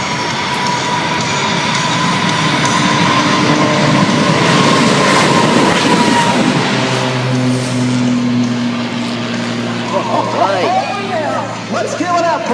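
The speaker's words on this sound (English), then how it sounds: "the airplane versus jet truck race" An airplane racing a jet-powered truck at the 2019 Greenwood Lake Air Show, a loud, sustained jet roar that swells and then fades, while an announcer talks over the noise in the second half.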